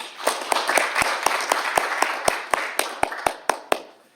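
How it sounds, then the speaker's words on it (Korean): Audience applause greeting a guest speaker at a Korean lecture event, with scattered distinct claps standing out over a dense wash of clapping for about four seconds. "박수로 환영해 주십시오."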